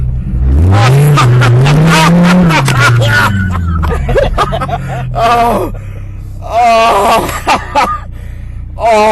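A Dodge Viper engine revs and surges during a drifting thrill ride, its deep note rising and falling loudly under excited gasps, groans and talk from the occupants.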